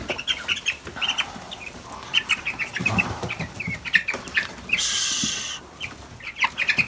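Young broiler chicks on a scale peeping and cheeping in quick, high bursts, with some shuffling, rustling and a brief hiss partway through, up close.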